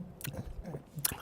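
Someone chews a sour lemon or lime, wet squishy bites close to the mouth with brief smacking noises over about a second.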